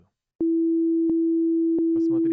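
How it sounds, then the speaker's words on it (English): Synthesizer sine wave tone used as the basis for a drum and bass kick: a pure, steady low hum with three faint periodic clicks, loud and alone until a voice begins speaking at the end. "First, I'll switch to a sine wave."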